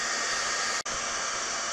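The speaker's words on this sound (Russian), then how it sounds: "значит, надо ее фен поднять немножечко повыше" A hair dryer blows hot air steadily over the plastic covering film of a Su-26 aerobatic model aircraft built using the bottle technique; the even, loud whoosh drops out for an instant near the middle and then resumes, with no talking.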